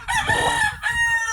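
A Spangled Hatch F1 rooster at a backyard breeding pen gives one loud, close crow lasting over a second, with a brief dip partway through before the call trails off.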